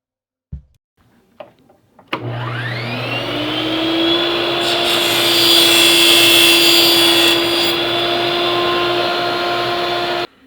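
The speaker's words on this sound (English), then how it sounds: "We are going to cut the PVC pipe on the table saw to about 560 millimeters." A table saw spins up with a rising whine and settles into a steady hum, then roars louder as it cuts through PVC pipe for several seconds before the cut ends and the blade runs on alone.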